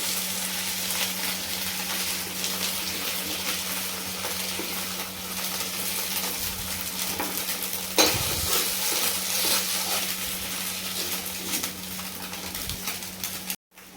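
Fried fritters are stirred into masala in a pan, a continuous close sizzle with occasional metallic scrapes and clinks of a utensil against the pan, alongside a steady low hum.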